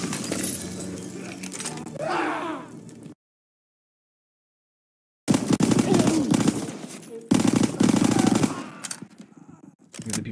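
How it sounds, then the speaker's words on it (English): Bursts of submachine gunfire from PPSh and MP40 weapons in a Call of Duty: World War II campaign battle, loud dense volleys broken by a silent gap, then sustained rapid firing with crashing impacts. "The PPSH or the MP40, that's fine."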